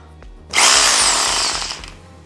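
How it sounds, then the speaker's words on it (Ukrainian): A corded angle grinder and rotary hammer whir up abruptly, running loud and close at a high pitch for about a second before winding down. "Мережева болгарка та перфоратор."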